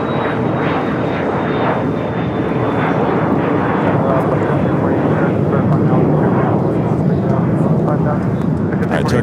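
A Turkish Airlines jet taxis at LAX, turning left onto a taxiway toward the Tom Bradley terminal gates. Its engines give a loud, steady, broad rumble and whine that fills the whole stretch, close to the listener.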